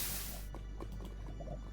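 Water poured onto lava in Minecraft gives a faint burst of hiss and fizz, then scattered small drips and liquid pops, quiet and alone.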